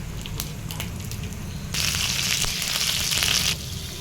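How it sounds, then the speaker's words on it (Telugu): Tempering spices with red chilli and curry leaves frying in hot oil in a pan for mango pickle, a constant close sizzle that swells into a louder, brighter crackling burst midway before settling back. "ఒక ప్యాన్ తీసుకొని దాంట్లో ఆయిల్, తాలింపు దినుసులు, రెడ్ చిల్లీ వేసుకోవాలి. ఇవి కొంచెం ఫ్రై అయినాక కర్రీ లీవ్స్ వేసేసుకోవాలి."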